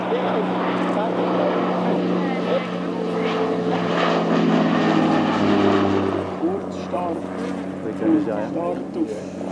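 A classic propeller aircraft roars past on top of a Swiss mountain, a loud, sustained engine drone swelling and fading over the whole stretch, with voices talking underneath.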